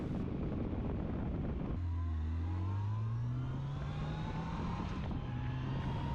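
Motorcycle ridden along the road at Hawks Nest, its engine droning steadily up close under strong wind rush, with pitch rising through gear changes as it accelerates.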